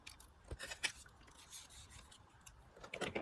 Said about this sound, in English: I'm going to take my little fine detail fussy cutting scissors to cut off the excess